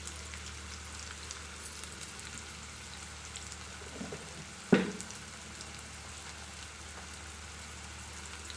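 Chopped big onions go into a pan of hot oil for Chettinad chicken kulambu, and a soft, steady sizzle follows with one brief louder clatter partway through.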